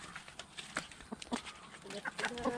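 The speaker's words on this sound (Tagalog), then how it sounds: "Ayan po ang aming kulungan ng manok." Chickens cluck and squawk in short, scattered bursts nearby in a farm coop in Occidental Mindoro, Philippines, fairly quiet, with faint voices around them.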